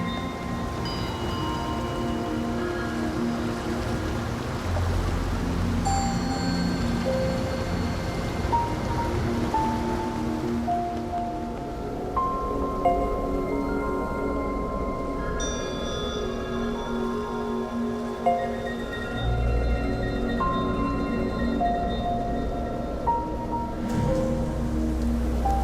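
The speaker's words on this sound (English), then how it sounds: "The only sound is the rain." Rain falling in the video game Nier Reincarnation, a steady soft patter under sparse, gentle melodic tones, with no voices.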